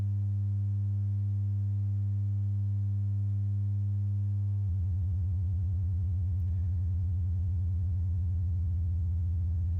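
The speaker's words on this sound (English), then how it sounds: "we should start to hear distortion." A modular synth puts out a steady low sine tone that abruptly turns buzzy and distorted partway through, its pitch sagging slightly as rapid pulsing ripples take over and hold to the end.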